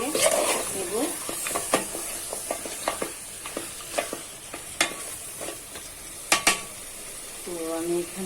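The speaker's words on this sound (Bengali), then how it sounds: "আমি এটাকে নেড়ে চেড়ে কষিয়ে নেব।" Goat trotter (paya) curry frying in a pan, a continuous close sizzle with repeated taps and scrapes of a spoon stirring, and someone briefly speaking at the start and end.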